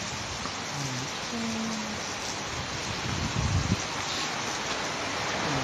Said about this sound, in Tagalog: abutan kami ng ulan